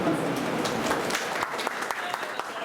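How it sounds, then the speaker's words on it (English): An audience at a college exhibition of wild vegetables and medicinal plants breaks into sustained applause, dense clapping with a few sharper claps standing out, while a voice speaks over it. "Stand and give a round of applause to Dr. Ranvati George and all the students"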